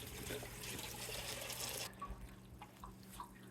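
Water pours and splashes steadily from a DIY aquarium sump pump setup, a dense broadband rush for the first two seconds that drops to a quieter trickle with scattered drips.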